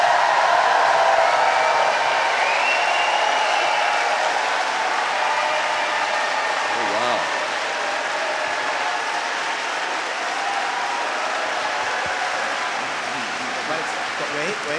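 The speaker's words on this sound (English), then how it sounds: "So we need everyone to give Reverend Barber a big round of applause for the podcast." Audience applause at a live event on reviving democracy, a broad steady wash of clapping that holds throughout at moderate distance, with voices mixed in underneath.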